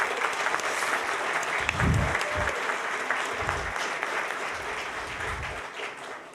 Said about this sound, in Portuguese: um aplauso para nós mesmos